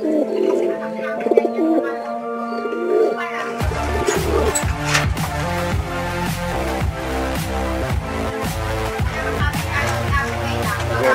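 Racing pigeon hens coo softly for a few seconds, then loud music with a steady beat takes over and drowns them out.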